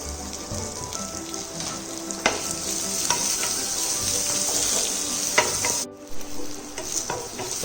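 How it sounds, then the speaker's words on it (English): Chilies and peppers roast in olive oil in a pan with a strong continuous sizzle and frequent stirring clatter. Near the end the sound cuts out for a moment, then the frying comes back. "Okay, so the chilies are getting roasted."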